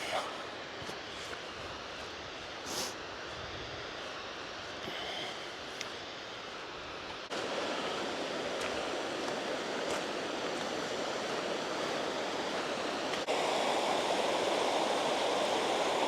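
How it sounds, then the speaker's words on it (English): Steall Waterfall in the Scottish Highlands pours with a steady broadband rush of falling water that swells louder partway through and grows fuller near the end, with no other sound standing out. "One last look at the waterfall."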